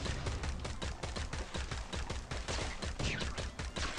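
Rapid gunfire fills the Swamp Attack 2 video game, steady dense bursts of shots mixed with a blast, loud and continuous with no talking.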